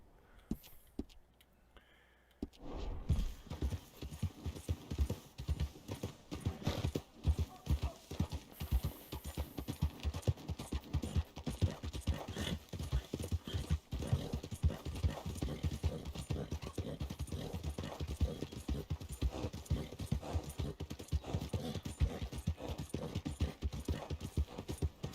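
Steady clip-clop of horse hooves trotting at an even rhythm in Red Dead Redemption 2, close and continuous after a brief quiet start, with an occasional snort.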